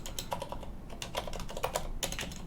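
Rapid, uneven typing on a computer keyboard, keys clacking close and clear in quick bursts with no voices over them.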